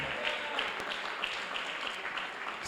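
A church congregation applauds during a teaching service, a faint, steady wash of clapping from a crowd heard at a distance for a few seconds.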